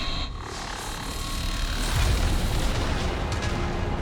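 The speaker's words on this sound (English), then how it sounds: "The Sovereign is firing his laser! His multiple lasers, actually." The Sovereign firing multiple lasers in Mass Effect 1, a loud, continuous rumbling blast of booming energy fire that swells toward the middle and holds steady, with no talk.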